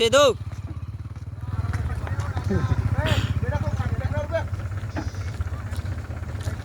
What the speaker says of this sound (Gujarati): ટ્રેક્ટર આપણે હવે વારું પડશે અહીંયાથી.